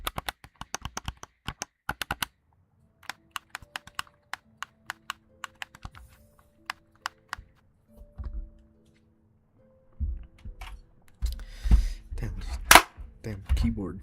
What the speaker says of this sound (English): Controller ASMR.